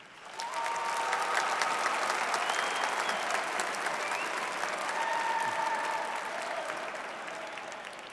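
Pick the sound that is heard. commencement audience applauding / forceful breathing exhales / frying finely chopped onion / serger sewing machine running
commencement audience applauding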